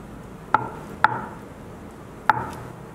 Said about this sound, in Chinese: 全部剥好之后，我们把它给切成片